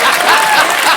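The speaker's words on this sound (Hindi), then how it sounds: "साइना के लिए जोरदार तालियां।" Studio audience at a comedy show applauding, a short burst of dense, loud clapping from a large crowd.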